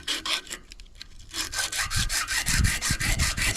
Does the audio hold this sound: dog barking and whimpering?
no